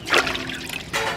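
Water trickling in a small stream at a crab-catching spot, a close, gentle babble with two brighter splashy bursts at the start and end.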